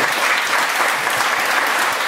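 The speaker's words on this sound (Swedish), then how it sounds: "Det är en applåd." A dense wash of applause from a crowd, steady and fairly loud, with no talking.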